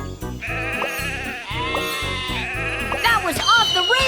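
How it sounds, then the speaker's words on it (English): Sheep bleating in a children's train game where the animals have strayed onto the tracks, several bleats over a busy backdrop of music and cheerful narration. "Sheep have wandered onto the tracks."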